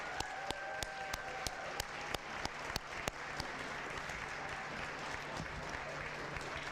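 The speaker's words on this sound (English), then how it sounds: "please join me in giving a huge round of applause to Molly, Claire, Alexis, Drew, and Colin." An audience at a medical school Match Day ceremony applauds steadily and loudly throughout, with a dense wash of clapping broken by a few sharp, louder individual claps.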